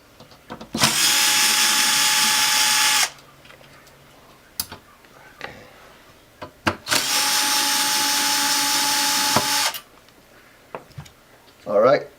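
A handheld power screwdriver whirs in two long, loud bursts while backing out screen screws on an ET1725L unit, separated by quieter clicks and handling noise, with a short sound at the end.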